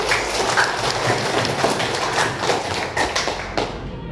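Applause from a class of teachers at a guidance-counselor training session, sharp overlapping claps with an uneven, patchy rhythm that thins out and stops near the end.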